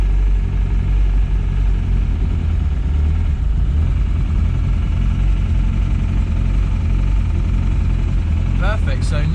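A Ford MK2 Escort engine fitted with a Fueltech ECU idles steadily on its startup map, a loud, continuous low rumble close by, with a brief voice near the end.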